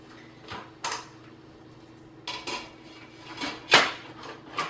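A cooking pot set back into a BT900XL5 electric pressure cooker, heard as a handful of close clattering metal knocks and clunks spread unevenly over a few seconds, the loudest near the end, with no talking.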